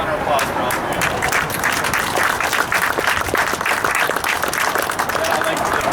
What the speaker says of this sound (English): So big round of applause for all three of them.